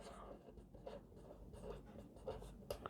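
Faint, soft pen-on-paper writing during a profit-and-loss maths lesson, with short scratchy strokes in a steady uneven rhythm over low background hum.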